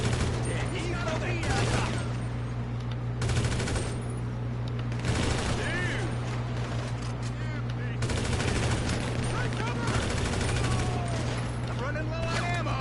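Repeated bursts of automatic gunfire in GTA, loud and close, coming in several long volleys separated by short pauses, with a low engine-like hum and voices underneath.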